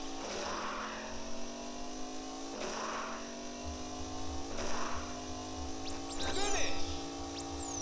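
A racing car engine in a Mario Party mini-game rises in repeated revving sweeps, each climbing in pitch before resetting. A chiming game effect follows near the end, with game music underneath.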